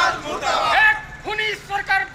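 A BJP protest crowd at a demonstration shouts slogans together, rising and falling in loud group calls, with a clear voice leading chants near the end.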